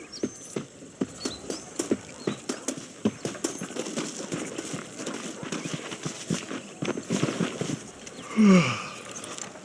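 Horse hooves clip-clopping in Red Dead Redemption, a steady walking gait of close, distinct thuds carrying on for the whole stretch, with a brief louder snort or whinny near the end.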